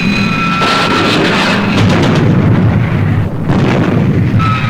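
A shot strikes a ship in a puppet adventure series, bursting into a loud, rumbling explosion with a heavy roar that rolls on and swells again for several seconds.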